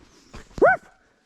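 A single dog on a hiking track lets out one short, sharp bark with a rising-then-falling yelp, close by, preceded by a few faint rustles and footsteps.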